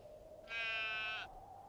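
A single sheep on a farm gives one clear, steady bleat lasting under a second. It sounds fairly close against a quiet background hum.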